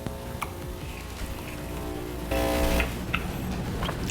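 An espresso machine brewing a shot into a cup, a steady mechanical hum and whir with faint ticking and a louder surge of pumping partway through, heard close with no talk.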